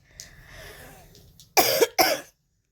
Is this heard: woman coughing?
yes